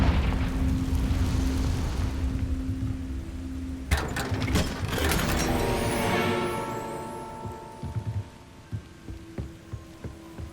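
A Confringo explosive spell goes off in Hogwarts Legacy with a sharp, loud blast that trails into a rumbling, crackling decay, amid ongoing game combat noise and a few thumping hits near the end.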